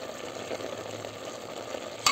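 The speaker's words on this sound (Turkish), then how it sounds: "Güzelce soteliyorum." Steady crackling sizzle of vegetables and garlic sautéing in a pan, a continuous close hiss with faint scraping, ending in a brief louder clatter.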